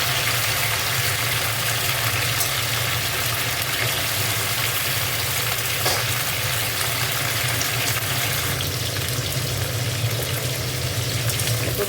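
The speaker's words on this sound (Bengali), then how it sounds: "ফুলকপিটা ভাজছি" Cauliflower florets frying in a pan for a vegetarian cauliflower and potato curry: a steady, close hiss and sizzle runs throughout, with a low hum underneath and no talking.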